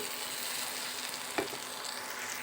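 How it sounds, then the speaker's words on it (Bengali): Spices and chili powder sauté in a pan for a masala base, giving a faint, steady sizzle with a single brief stir or scrape midway. "আমি কিছুক্ষণটা কষিয়ে নিচ্ছি"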